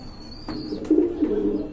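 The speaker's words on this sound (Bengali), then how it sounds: "খুবই সুন্দর চমৎকার আরেক জোড়া কবুতর" A pair of running pigeons coos close by, one throaty, rolling coo lasting about a second, with a faint high whistle and a brief sharp tick just before it.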